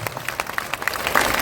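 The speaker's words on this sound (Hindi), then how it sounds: "ताली, जोर से ताली बजाइए।" Applause from an audience at a political party speech in Bihar, a brief wash of many hands clapping at moderate distance, steady and somewhat faint.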